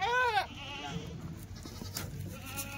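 Kathiawadi goat bleats loudly and close for a moment, a wavering cry, then quieter rustling and farmyard sounds continue.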